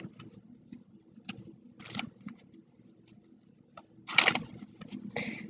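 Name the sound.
shuffling a deck of cards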